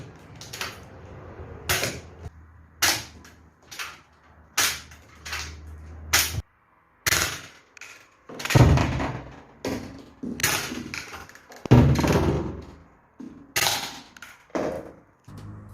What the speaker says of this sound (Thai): วันนี้เราจะมารีวิวเป็น นี่ปืนยิงลูกโฟมนะครับ Storm Zone นะครับเป็นปืนสั้นนะฮะ